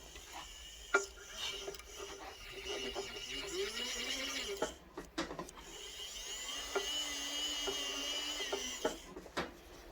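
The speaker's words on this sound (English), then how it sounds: "Then I'll clean the inside of the seat up with a silicone polisher." A small rotary silicone polisher whirs inside a jewelry stone seat, a steady high-pitched spinning tone that shifts in pitch as it presses, with brief clicks and light handling noises close by.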